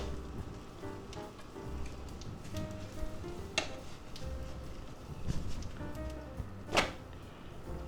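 An egg, cheese and sausage quesadilla sizzles quietly in a covered pan: a soft, steady hiss like light rain, dotted with occasional sharp pops and crackles.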